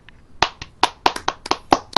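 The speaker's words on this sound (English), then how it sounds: "Everybody applaud" Scattered, uneven claps from a few podcast participants in a small room, about nine sharp hand claps over two seconds, close and fairly loud, with no talking.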